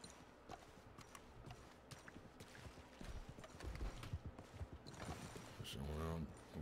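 Rhythmic hoof clip-clops of a horse at a steady walk in Red Dead Redemption 2, with clattering mechanical noises in the background and a louder rumble near the end.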